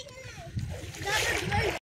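River water splashing and sloshing as people bathe in it, close and growing louder toward the end, mixed with voices talking over the water.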